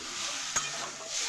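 Vegetables for Bengali shukto sizzle in a pan while a spatula stirs them, producing a brief close scrape and tap over a steady soft frying hiss.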